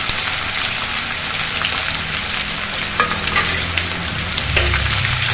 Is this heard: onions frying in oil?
yes